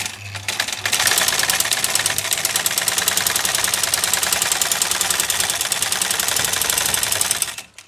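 Small black sewing machine stitching through thick fabric, a loud rapid mechanical chatter with fast regular needle knocks running steadily for several seconds after a brief start.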